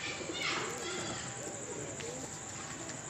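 Pigeon on a home rooftop cooing faintly against a steady outdoor hiss, with a voice talking nearby.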